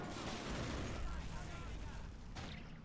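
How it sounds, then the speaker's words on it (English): Mortar fire and battle noise in the World War II strategy game Men of War, a dense rumbling barrage of booms with a voice talking over it. "Alright, mortar, engage."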